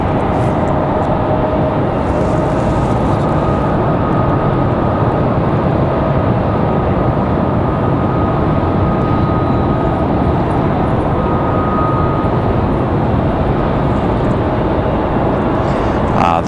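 An aircraft being pushed back off the gate at Raleigh-Durham (RDU) airport, with a loud, continuous broadband engine roar and rumble that holds steady the whole time, close and dominant, with no distinct voices.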